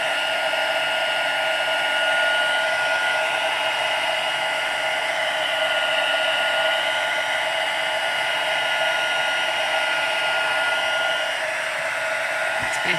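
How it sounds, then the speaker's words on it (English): A heat embossing tool blows hot air over embossing powder on card, a steady whirring hiss that holds constant for the whole stretch, close and continuous with no talking. "I'm holding my heat tool and the carding."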